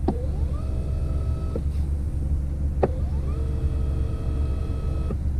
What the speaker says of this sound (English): I like how these actual motors sound.